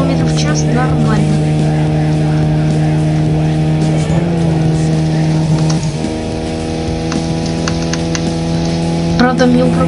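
A car in the video game Need for Speed Most Wanted races at close to 200 km/h, its engine a loud, steady, high-revving drone sustained throughout with slight shifts in pitch and no pauses.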